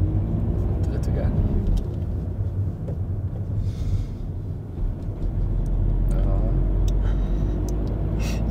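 A car's engine rumbles steadily inside the cabin during a driving lesson as the learner shifts into third gear, a low drone with a brief dip and rise around the gear change while people talk over it.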